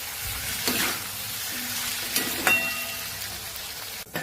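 Kathiyavadi-style okra curry fries in a pan while a spoon stirs it, giving a steady soft sizzle broken by a few scraping clinks and a sharper knock near the end, with no voices.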